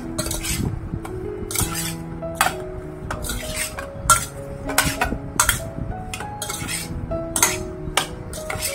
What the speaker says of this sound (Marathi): आता मी हे हलवून घेते सबंध मसाले।